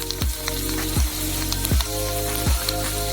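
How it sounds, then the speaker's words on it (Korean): Steady loud sizzling of dried cooked rice frying in hot oil and puffing up like popcorn, crackling continuously with periodic whooshing swells, close up and without voices. "즉시 펑 튀겨지면서 팝콘처럼 부풀어 오른 쌀로 변해요."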